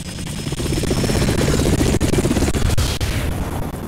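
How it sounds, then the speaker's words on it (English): A Russian Hind D gunship helicopter from Metal Gear Solid: The Twin Snakes gives a loud, steady rotor roar with heavy low rumble and dull thuds, filling the whole stretch without speech. "A Hind D. Colonel, what's a Russian gunship doing here?"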